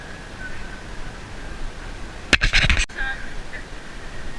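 Duck quacking briefly and loudly near a village road in Trabzon, a short burst of a few rough calls with faint background noise around it.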